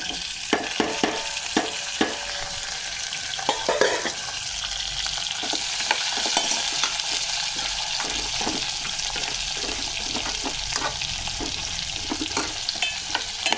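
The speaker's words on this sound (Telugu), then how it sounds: "ఇదిగోండి పోపు వేగింది. కరివేపాకు, అలాగే ఉల్లిపాయ, టమాటా, క్యారెట్, పచ్చిమిరపకాయలు." A tempering of curry leaves, onion, tomato, carrot and green chilies is stir-fried in a pan, a continuous sizzle broken by frequent sharp spoon clinks and scrapes in an uneven rhythm.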